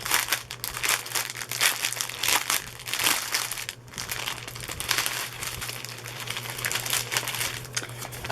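A shipping package being torn open, its plastic wrapping crinkling and crackling loudly and continuously for several seconds, with dense rustling and brief crushing bursts close by and no voices.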